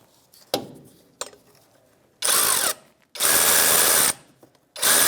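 A power socket tool tightens the top nut on a Ford F-150 front shock, giving short sharp clicks followed by loud, buzzing bursts of several seconds each, close by.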